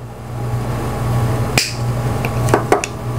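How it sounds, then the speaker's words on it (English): Cutters trimming a power tool's cord wire inside its plastic housing, one sharp snip followed by a couple of smaller clicks over a steady low hum, close by with no talking. "we're gonna trim right inside the plastic just to keep as much wire as we can"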